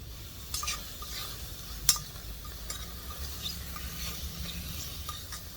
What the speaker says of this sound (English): So this is it's already sizzling away.